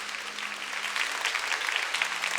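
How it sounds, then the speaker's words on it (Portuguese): A church congregation applauds together in a continuous steady wash of clapping, moderately loud and even throughout, with no voices standing out. "Vamos aplaudir o nosso Deus."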